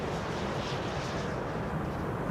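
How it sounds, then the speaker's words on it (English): An airliner lands at Schiphol on runway 06 (Kaagbaan) with idle reverse thrust, giving off a steady, broad engine roar that stays loud and close throughout the short stretch. "Idle reverse landing"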